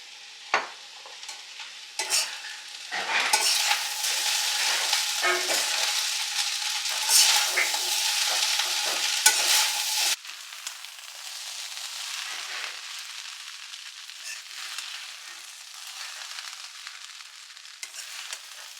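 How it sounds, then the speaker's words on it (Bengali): Rice being stir-fried in a pan, a steady loud sizzle with repeated scraping strokes of a spatula for about ten seconds, then a softer continuous frying hiss that carries on alone. "তো আজকে আমি একটুখানি ভাত ভাজা টাইপের বানাচ্ছি।"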